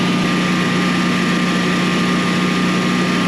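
Portable generator engine running steadily at about 3600 RPM, a loud constant drone with a fixed hum and buzzing tones, close and unbroken throughout.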